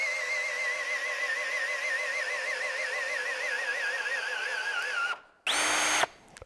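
A Festool C18 cordless drill driver whines loudly under heavy load, its pitch wavering as the motor strains, then cuts off abruptly before a short high-pitched burst and a final stop.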